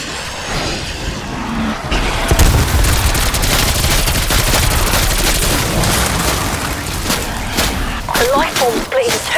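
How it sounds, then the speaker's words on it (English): A grenade bursts in Call of Duty Cold War Zombies, a deep boom within loud, continuous gunfire and game noise, with a voice speaking over the action. "Throwing grenade."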